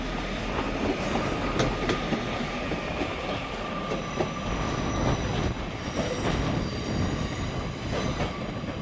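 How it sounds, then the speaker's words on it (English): Trains moving through Manchester Piccadilly station, including a class 185, with a steady loud rumble, rhythmic wheel clatter over rail joints, and occasional metallic squeals and clanks, no voices. "Train galore."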